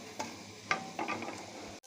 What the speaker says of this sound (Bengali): কাজু কিশমিশটা ভালো করে দিয়ে ভালো করে ভেজে নিই